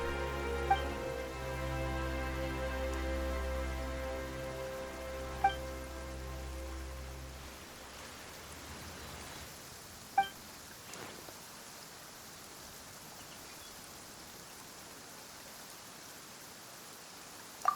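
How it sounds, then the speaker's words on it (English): Steady rain falls in Genius Impact's Fontaine region, a soft hiss that emerges after a sustained low musical drone fades, with a few faint sharp ticks scattered through. "Why is it raining all of a sudden?"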